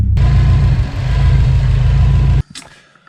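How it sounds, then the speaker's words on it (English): A 2004 Subaru WRX hybrid build, fully warmed up, idles loud and close with a deep, slightly uneven rumble from an idle fluctuation. The engine then cuts off abruptly, leaving a brief clatter and quiet. "It's got a little bit of an idle fluctuation."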